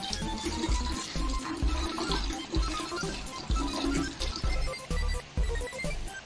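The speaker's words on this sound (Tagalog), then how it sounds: "Karon unahon na to ang tubig 5 liters." Five liters of water pour steadily into a container while mixing a homemade fabric conditioner, a continuous close splashing gush with rhythmic glugging pulses as the jug tips, loud and alone throughout.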